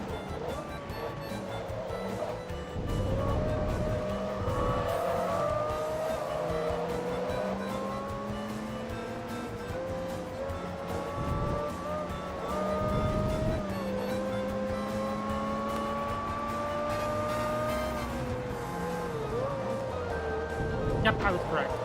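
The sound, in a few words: Porsche Carrera GT racing in Forza Motorsport 2 video game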